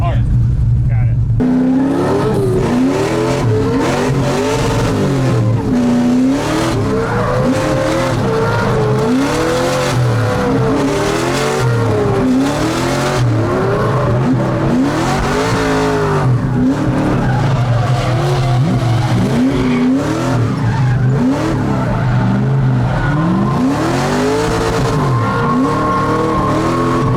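A car drives laps on a test track at the Freedom Factory, its engine loud and close, revving up and down through repeated gear shifts, with tire squeal on the turns.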